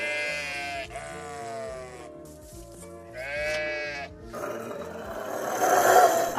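Sheep bleat in long, wavering cries, several calls one after another with short gaps between them, fairly close and clear over a faint low rumble that thickens into noisier grunting toward the end.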